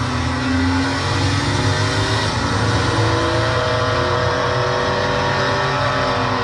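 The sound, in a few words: Mercedes E63 car driving on the Nürburgring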